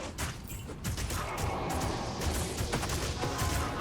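Corpse Explosion in Diablo II Resurrected cast repeatedly by a summoner necromancer, producing a dense, continuous clatter of bursting blasts and crunching impacts with no pauses, fairly quiet overall.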